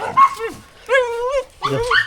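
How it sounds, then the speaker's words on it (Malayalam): Farm dogs let out three short, loud vocal bursts close by, a yelping bark followed by drawn-out whining whimpers, with brief quiet gaps between them. "അപ്പോൾ നമ്മുടെ കോഴിക്കൂട്ടന്മാരും പട്ടികളും മിടുവും എല്ലാവരും കൂടി ഉണ്ട് ജോണേ"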